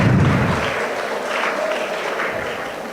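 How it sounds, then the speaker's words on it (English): Audience applause at a live talk, a dense, steady wash of clapping from a crowd filling the room, loud and close from the start and holding evenly throughout with no voices on top. "Give him a round of applause, please."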